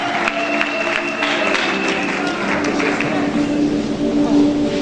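A church congregation at a prophets' gathering applauds with steady, dense clapping that lasts throughout, with crowd noise and some voices underneath.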